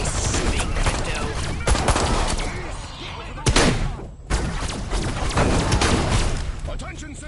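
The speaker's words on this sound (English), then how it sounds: "disintegrator ray. Try it out on the fuzz." A disintegrator ray weapon firing in the video game Destroy All Humans! remake: rapid, dense bursts of crackling weapon fire with sharp blasts, nearly continuous, with a voice talking over it at times.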